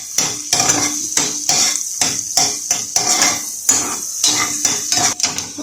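Chopped ginger and garlic are sautéed in a pan, with a spatula scraping and clanking against the metal in a steady, close, rhythmic pattern over a soft sizzle.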